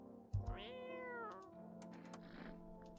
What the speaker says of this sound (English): Where's the cat?